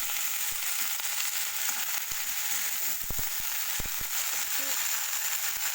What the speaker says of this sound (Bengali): কিছু সময় আমি ভেজে নেব।